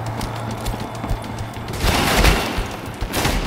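Loud bursts of shotgun fire in a video game, two heavy blasts a second apart over a low hum of background game noise.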